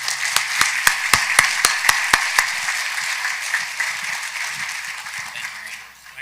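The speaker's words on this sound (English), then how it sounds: "Let's give them a round of applause." An audience breaks into applause at a Governor's Award for Excellence in Global Trade ceremony: crisp, evenly spaced claps at first that thicken into a steady, full wash of clapping before fading out at the end.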